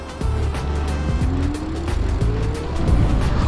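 A 50 mph electric bike accelerates hard up a steep 15% grade hill, its motor whine climbing steadily in pitch over a loud rush of wind and road noise, close and continuous.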